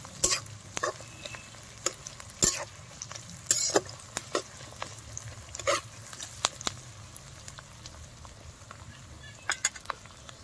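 Onions fry in a pan toward a light brown for a homestyle chicken curry, with a soft, steady sizzle under frequent sharp scrapes and clicks of a spatula stirring at irregular intervals.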